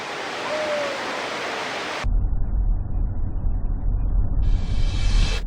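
Niagara Falls roars with a dense, broad, steady rushing noise of massive falling water, loud and continuous, deepening into a heavier rumble partway through.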